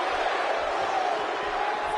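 A dense, roaring arena crowd cheers continuously during a wrestling video game on PS4, a loud, even wall of noise with no pauses.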